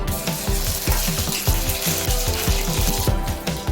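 Ginger garlic paste sizzling in hot oil in a pan while palak dal is cooked, a loud steady crackling fry with regular stirring scrapes and clinks, no voices.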